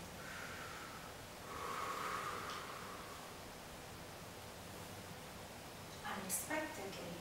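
A person imitates a scuba diver's underwater breathing with soft, hissing breaths in and out, quiet at first and then a sharper, louder snort-like burst near the end, with no other sound.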